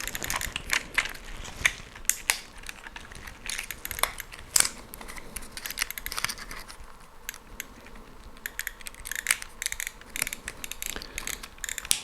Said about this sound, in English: As you can see, the camera is winding the film now.